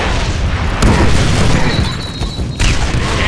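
A grenade blast in the Deadpool video game, a loud continuous roaring boom with crackling debris that fills the whole moment, with a second burst near the end and no voices.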